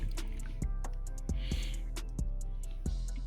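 Engine pistons being washed by hand in a bucket of soapy water: repeated sloshing, dripping and squishing, close and fairly loud, with sharp knocks of metal against the bucket at irregular intervals.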